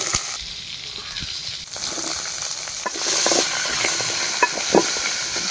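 Onions fry in a hot pan with a continuous crackling sizzle, close and steady, punctuated by occasional stirring clicks and scrapes that grow a little louder toward the end.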